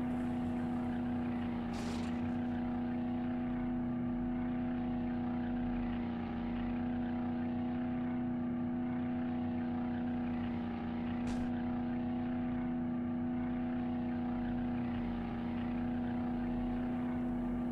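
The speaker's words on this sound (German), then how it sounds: "Klingt aber echt scheiße, das Auto." Steady car engine drone in 7 Days to Die, a low monotonous hum with a strong constant tone that runs unbroken and fairly loud, with no talking.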